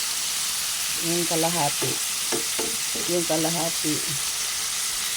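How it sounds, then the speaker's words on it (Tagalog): Beef tapa fries in a pan with a dense, steady sizzle and crackle heard up close throughout. Someone talks briefly over the frying. "Ayan, ipiprito natin yung iba."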